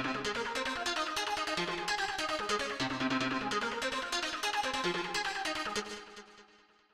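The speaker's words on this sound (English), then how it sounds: "this melody added echo boy, delay, pan man, usual stuff to just make it sound more ethereal" A synth melody of quick plucked notes rings out with echo and delay trails, fading away at the end.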